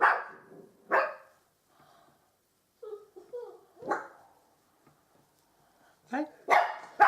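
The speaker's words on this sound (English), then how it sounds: "Puppy's going mad." A puppy barks in several sharp, separate bursts with quiet gaps between them, loud and close, with a few short yips near the end.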